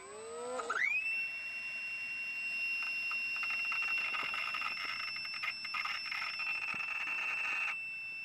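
A faulty electronic speed controller in a HobbyKing EZIO 800 RC glider beeps with a sustained high electronic tone, rising in pitch at the start and then holding steady for several seconds, close and fairly clear.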